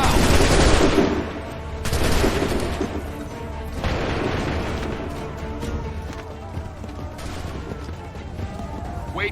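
Musket volleys crack out in a battle scene from Assassin's Creed III, loud repeated gunfire bursts at about two-second intervals, the first blasts strongest, with clattering shots and rumble filling the gaps between them.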